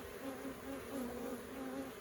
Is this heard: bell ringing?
no